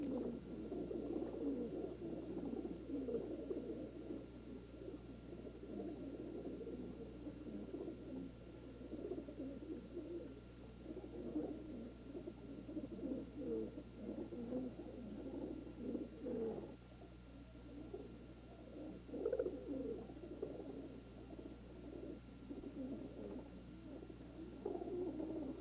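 Racing pigeons coo continuously in a low, overlapping murmur, many birds at once filling a steady, moderately faint background without talk.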